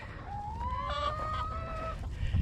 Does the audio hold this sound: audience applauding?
no